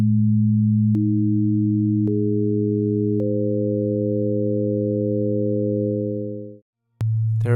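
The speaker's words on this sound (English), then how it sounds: "he used a signal tone generator to play all 10 tones" A signal tone generator plays pure electronic tones that stack up one after another into a steady sustained chord, which cuts off near the end before a new tone briefly starts.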